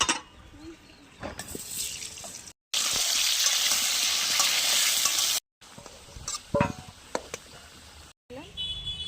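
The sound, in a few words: potatoes with salt and turmeric frying in oil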